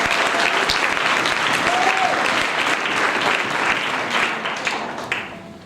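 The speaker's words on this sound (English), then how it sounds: "Let's give the Lord a clap." A church congregation claps at a Sunday service, producing a dense, sustained wash of many hands that holds steady for several seconds before thinning out at the end.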